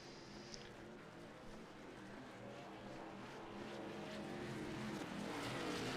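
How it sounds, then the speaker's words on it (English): A distant race truck engine drones at a steady, slowly rising pitch under its pit road speed limiter, growing gradually louder over a wash of broadband background noise. "That noise is a pit road speed limiter on a truck."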